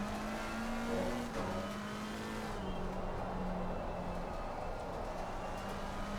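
Race car engine in a Nurburgring racing video game, a steady droning note holding near full throttle with slight pitch shifts, continuous and fairly loud with no talk.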